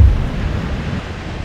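Mediterranean Sea waves at a beach where a dune field ends, in the Albufera Natural Park near Valencia. The surf rolls as a steady low, close wash, with wind buffeting the microphone throughout.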